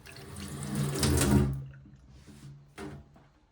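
Warm water runs steadily from a tap into a sink, then eases off and ends in a few short splashing bursts.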